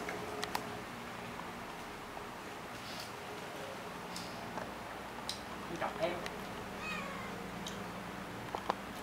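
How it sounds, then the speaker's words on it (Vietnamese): A cat meows faintly a few times amid steady background noise and people talking nearby. "Mèo."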